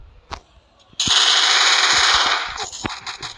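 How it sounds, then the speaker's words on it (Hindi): Automatic gunfire in the battle royale game Free Fire Max, a loud sustained burst of rapid shots for over a second, preceded and followed by scattered single cracks. "मेरे पर ही फायर कर रहा है ऐसे।"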